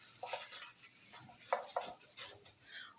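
Potatoes, onion and spices are turned over in a baking tray, giving faint scraping and a few light clinks of utensil on metal, quiet and close.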